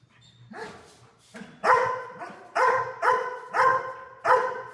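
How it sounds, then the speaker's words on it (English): A working dog barks at a decoy during protection training, a series of about seven loud, close, deep barks coming in quickening rhythm. "He's barking much more confidently now."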